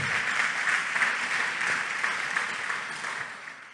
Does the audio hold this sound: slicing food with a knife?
no